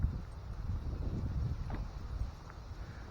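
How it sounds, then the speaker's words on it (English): Wind gusting outdoors at a lake, a steady low rumble of buffeting against the microphone with rustling swells, continuous and fairly loud with no talk. "I didn't realize it was so windy out today."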